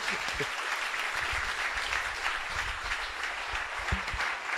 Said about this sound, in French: On applaudit puisque c'était quand même vraiment bien.